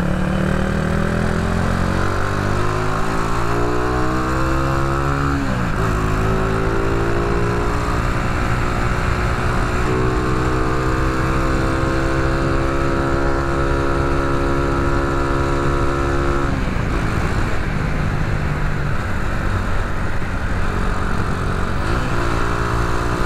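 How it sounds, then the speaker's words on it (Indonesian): A loud Honda Supra X 125 motorcycle engine with a bored-out cylinder revs hard and climbs through gears at night, dropping briefly between shifts before rising again, close and continuous. "gue kan jarang nyobain ini motor kebut-kebutan malam ya"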